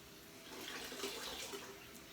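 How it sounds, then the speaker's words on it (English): Cold tap water running steadily into a bowl, a close continuous splashing hiss with no talking. "And then we want cold water"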